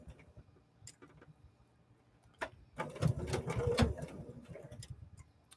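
A sewing machine tacks heavily through the layers of a small wallet, with a short burst of stitching rising after a few quiet ticks and faint handling noises.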